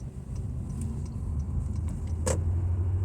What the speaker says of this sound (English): I'll give it some gas so you can hear how it sounds